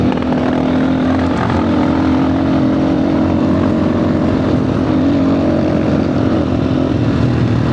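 A motorcycle engine drones continuously as it strains to climb a hill. The sound is steady and loud throughout with no talk.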